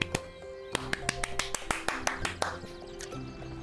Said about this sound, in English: Quiet clapping.